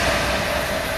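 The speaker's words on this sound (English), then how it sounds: "here's a Pendolino speeding through Atherstone Station" A Pendolino train speeding through Atherstone Station, a loud, close, continuous rushing roar of wheels and carriages with no talk.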